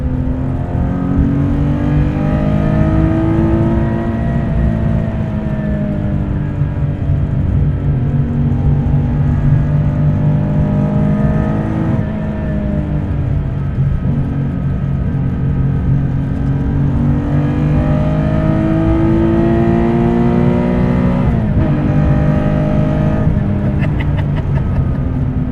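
Guntherwerks 400R sports car, 431 horsepower and 2,660 pounds, revving hard from close range as it accelerates, with engine pitch rising and falling through repeated gear shifts in a continuous loud roar.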